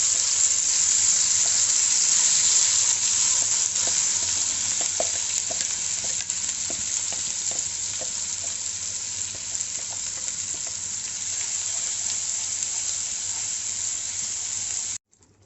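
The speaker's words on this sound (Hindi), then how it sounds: "अब हम इसमें ये प्योरे जो बनाया था ये डाल देंगे।" Tomato puree for malai kofta gravy sizzles steadily in a pan over medium heat, a loud, continuous hiss with a few faint clinks of stirring.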